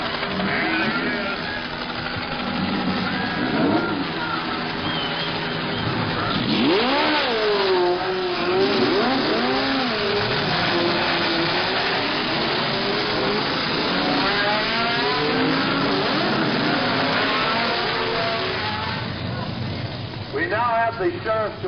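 Race car engines at the start of the 1970 12 Hours of Sebring, a steady loud roar with rising and falling revving pitches, overlapped by an announcer talking throughout.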